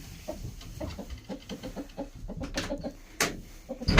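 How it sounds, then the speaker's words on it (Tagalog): Roosters cluck and squawk in quick, irregular bursts close by, several birds calling over one another. "tinirhan ko lang ng tatlong tandang malaking manok"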